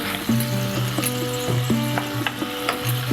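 Mango pieces and jaggery cooking in oil in a pan for ginger mango pachadi, giving a close, steady sizzle broken by repeated scraping knocks of a spoon stirring the mixture.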